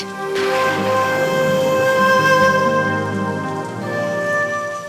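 Steady rain pours down with a continuous hiss, accompanied by sustained tonal music in the background.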